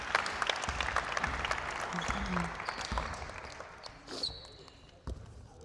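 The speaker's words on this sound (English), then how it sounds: "Give them a clap." A group at a basketball player-development session claps for players, a loose burst of hand claps with a ball bouncing on a court, fading toward the end with a voice speaking briefly.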